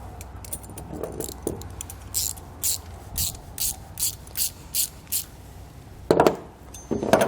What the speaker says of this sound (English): We'll go ahead and use a 11mm socket and wrench to snug those down.